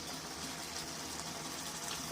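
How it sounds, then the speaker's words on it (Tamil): Water poured into a pan of capsicum paneer masala gravy as it cooks, a short steady splashing hiss close by. "கொஞ்சம் தண்ணியை ஊற்றி இன்னும் நல்லா வேக வச்சுக்கிறோம்."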